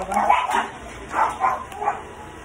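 Dogs barking nearby, several short bright barks in two quick bursts with brief gaps, fairly loud and close, with no talk over them.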